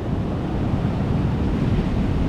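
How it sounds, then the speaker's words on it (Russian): Sea waves crash and surge onto a shoreline in a steady, loud wash of surf, with wind buffeting the microphone throughout and no voices. "Гляньте, гляньте, какие волны."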